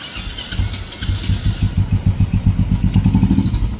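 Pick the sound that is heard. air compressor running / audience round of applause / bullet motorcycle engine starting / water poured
bullet motorcycle engine starting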